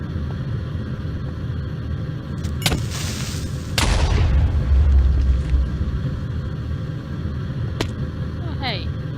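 A Minecraft explosion blows up a crowd of monsters, a loud low boom with a rumbling tail lasting about a second, set among sharp game clicks and pops over a steady low background.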